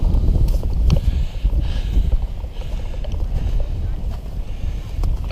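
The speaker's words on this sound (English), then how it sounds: "Wind's blowing terrible." Strong gusty wind on an icy winter mountain trail to Charlies Bunion, a heavy close rumble of buffeting against the microphone that surges and eases, with faint voices beneath.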